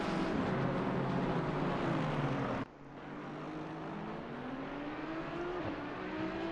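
Ferrari race cars at Misano circuit, engines roaring loudly at high revs and changing pitch as they pass and shift gears, a sustained mechanical drone with no talk.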